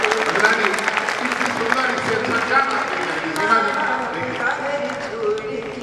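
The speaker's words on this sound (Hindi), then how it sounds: "जोरदार ताली" Loud, sustained applause fills the hall at a Hindi poetry gathering, dense and steady throughout, with crowd voices mixed in.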